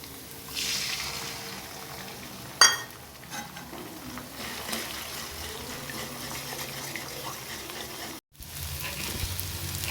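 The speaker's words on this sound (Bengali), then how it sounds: "এবার আমি ডিমগুলো এর মধ্যে ভেজে নেব।" Two eggs fry in a pan for a Bengali egg tadka, a steady, fairly soft crackling sizzle throughout, punctuated by a sharper clatter near the start and a brief cut toward the end.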